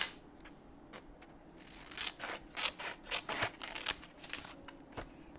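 Scissors snip through paper for a Stamperia Dream Tiles junk journal, a quick series of close, crisp cuts after a few quieter sounds at the start.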